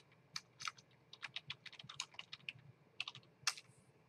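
Keys on a computer keyboard clatter in a short, quick run of taps at close range, with brief pauses between bursts in an otherwise quiet room.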